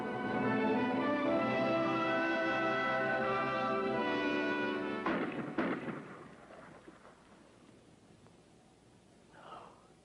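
One sharp gunshot rings out in a film scene, cutting through a steady droning tone midway, then a brief fading echo and near quiet follow.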